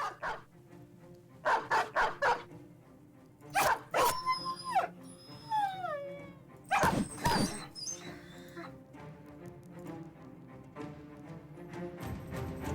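Dogs bark in a Battle Brothers fight. Several loud, sharp barks and yips come in bursts, with whines and howls between them over a steady battle ambience.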